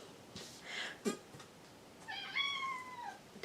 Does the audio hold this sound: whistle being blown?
no